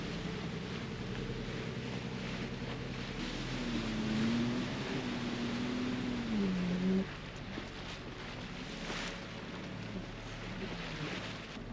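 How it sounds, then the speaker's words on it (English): A large boat's engine drones low and steady as it passes on the sea near Bonifacio, with wind buffeting and water washing around it, and a brief whining tone midway. "here's a big boat coming along."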